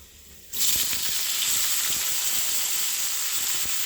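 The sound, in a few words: pouring leafy greens into hot oil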